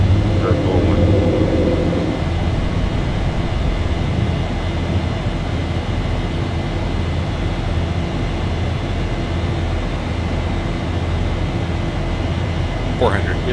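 Airliner climbing out after takeoff in X-Plane 11, a steady broadband engine and airflow roar holding level throughout, with a brief radio voice near the start.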